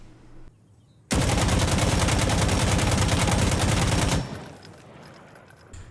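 A sustained automatic burst from an AKM rifle fitted with a compensator in Insurgency Sandstorm, about three seconds of rapid, evenly spaced shots, loud and close, cutting off into a fading tail.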